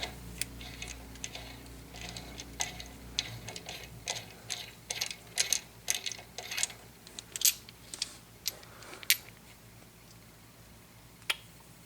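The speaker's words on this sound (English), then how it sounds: "There's the bolt just easily spinning out by hand" A bolt spinning out by hand from a 2001–06 Hyundai Elantra engine during a timing belt service, heard as a run of close, quick metallic ticks and clicks over a low background hum.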